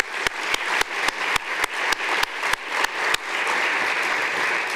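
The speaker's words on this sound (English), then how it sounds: "Let's give our sponsors a round of applause," Sharp individual claps at first, then building into steady, dense applause from a crowd, fairly close and continuous to the end.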